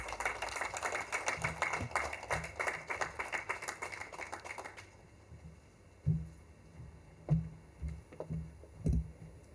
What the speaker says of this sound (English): So please welcome Dr. Krupa Torne to the podium with a huge round of applause.